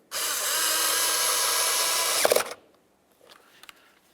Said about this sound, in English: Let's use our Phillips head to put in this mounting bolt right here.